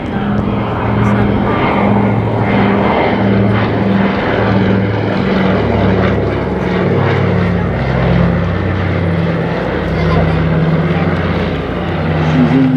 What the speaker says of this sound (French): je vais laisser écouter le son du Catalina.